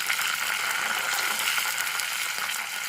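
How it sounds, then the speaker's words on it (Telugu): Curry leaves frying in hot oil while tempering for brinjal bajji, a steady, close hiss of sizzling and crackling that continues unbroken throughout. "ఇప్పుడైతే మనం కరివేపాకు వేసి ఇది కొంచెం చిటపటలాడాలండి"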